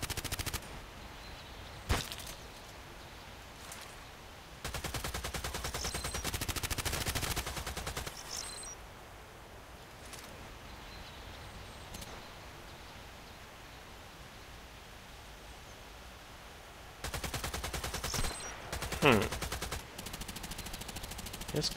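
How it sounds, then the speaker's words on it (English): Machine gun fire in the online shooter Contract Wars, heard as sustained automatic bursts of several seconds each, loud and close, separated by quieter stretches of ambient game noise. "Machine gun."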